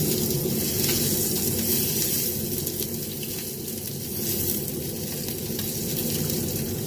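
Fish cakes frying in oil in a pan give a loud, dense, continuous sizzle and crackle, close and steady throughout with no talk.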